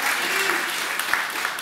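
Crowd applause at a panel on building Black businesses, a steady, dense wash of many hands clapping, with a brief voice over it.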